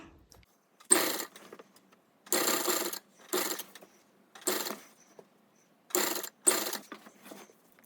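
A sewing machine stitches a cross piece onto a feeding nighty in six separate runs of fast, buzzing mechanical whirring, each under a second long with quiet pauses between.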